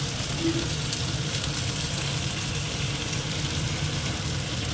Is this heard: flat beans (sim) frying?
yes